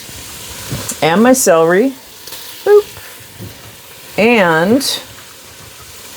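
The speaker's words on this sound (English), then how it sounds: "I do have some bacon grease on the bottom of my skillet, so I'm going to go ahead and put in my onions" Onions, celery and carrots sizzle in bacon grease in a skillet, a steady frying hiss running beneath a person talking over the stove.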